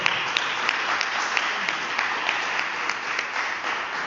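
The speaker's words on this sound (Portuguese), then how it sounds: "vamos dar uma gloriosa salva de palmas ao Senhor." A church congregation gives a steady round of applause, many hands clapping together at moderate distance, even and continuous with a slightly muffled, narrow tone and no voices over it.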